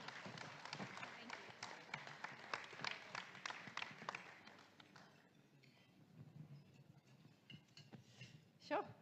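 Audience applause welcoming a speaker at an oncothermia launch event in the Philippines, a dense burst of clapping that fades after about five seconds into quiet room noise and faint voices.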